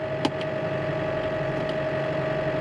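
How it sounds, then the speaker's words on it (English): A farm tractor idles steadily, failing to engage gear, with a constant low mechanical drone and a faint tonal whine, plus a brief click or knock near the start. "turn tractor off."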